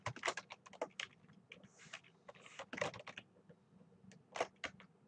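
Someone types on a computer keyboard, a close, irregular run of quick key clicks with short pauses between bursts, alone with no talk.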